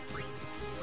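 A giant bird in Final Fantasy X gives two short, nasal squawks close up, one near the start and one near the end, over a dense layer of game music and ambience.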